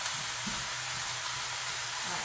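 Orzo toasting in butter in a skillet, giving a steady, soft sizzle and crackle with a low background hum and no break.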